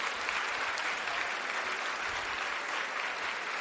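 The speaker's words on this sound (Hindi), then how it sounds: "चाहूंगी कि एक बार जोरदार तालियां हमारे" Loud, steady applause from a crowd at a Delhi government event launching electric buses for schoolchildren, cheering the Lieutenant Governor; dense continuous clapping fills the whole stretch with no break.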